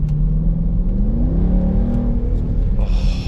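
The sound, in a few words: Dodge Durango SRT 392 V8 engine revving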